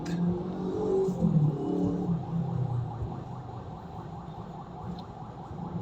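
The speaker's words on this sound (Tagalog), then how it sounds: "Friday kasi ngayon kaya traffic" Friday traffic on Recto Avenue in Manila, a steady close drone of car and bus engines with revving and rumbling, slowly easing in loudness, with no voices.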